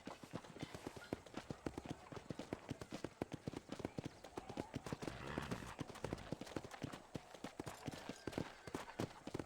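Horse hooves clip-clopping in a steady, quick walking rhythm on a ranch corral in Red Dead Redemption, clear and continuous, with no talking over it.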